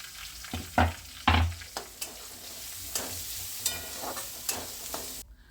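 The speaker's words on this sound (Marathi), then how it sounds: "आलं लसणाची पेस्ट आणि कांदा छान असा परतून घेतला बघा" A close sauté sizzle of onion and ginger-garlic paste, punctuated by several sharp spatula scrapes and knocks against the pan, irregular stirring throughout, no talking.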